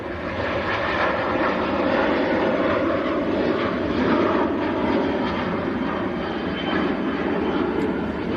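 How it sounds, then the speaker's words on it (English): A Ryanair Boeing 737-800 with split scimitar winglets climbs away from Manchester Airport on a departure to Pisa, its jet engines giving a loud, steady broadband roar that fills the whole stretch with no letup. "This is Ryanair to Pisa in Italy. It's getting airborne. 737-800 with split scimitars."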